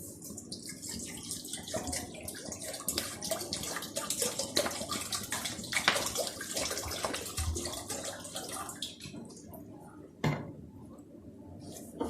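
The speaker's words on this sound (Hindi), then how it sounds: "हाफ लीटर में पानी डाल रही हूँ।" Half a litre of water is poured into a cooking pot for tamarind and plum chutney, giving a steady splashing, trickling stream that runs for several seconds before easing off, close and fairly quiet.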